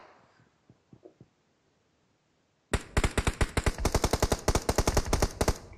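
Video game gunfire in a battle royale match: after a few faint distant shots, loud rapid automatic bursts erupt close by and continue in a fast irregular rattle to the end.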